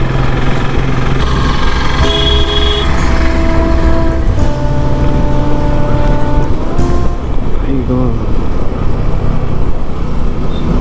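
A loaded motorcycle fitted with a top box cruises along a road near Solapur in the morning, a steady droning engine with wind rush and shifting tones throughout.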